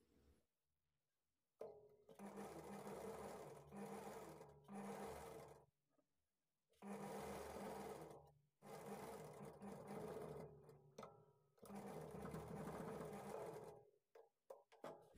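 Sewing machine stitching the lining of a blouse, close and steady bursts of whirring stitches separated by brief pauses, running alone without talk.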